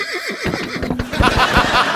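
A horse neighing effect plays on a comedy show, a quavering whinny that rises and falls in rapid pulses, followed by a brighter, noisier burst as the sound continues loud and close.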